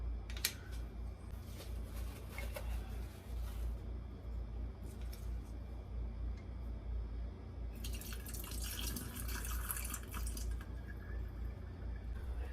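Water runs over tomato seeds in a strainer as they are rinsed, a steady close trickle with light splashes and drips throughout.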